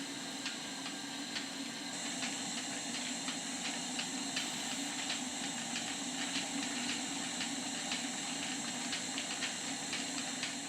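A model steam engine runs on a kitchen table at 25 psi, making a steady hiss with rapid, regular ticking exhaust beats that continue evenly from start to finish.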